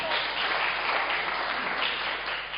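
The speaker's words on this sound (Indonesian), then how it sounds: "Tepuk tangan bagi Tuhan." A church congregation at a Sunday service breaks into applause, a dense, even wash of many hands clapping that stays steady and fairly loud for a few seconds, without talk over it.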